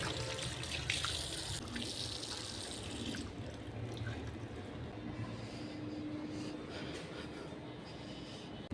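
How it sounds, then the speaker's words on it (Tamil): Water gushes steadily from a tap over a continuous mechanical rumble, like a washbasin running aboard a moving train. "ஒன்ஸ் ப்ரெஸ் பண்ணோம் அப்படின்னா தண்ணி வருதுங்க"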